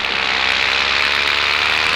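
A paramotor engine runs close and loud with a steady, buzzing drone and no talk.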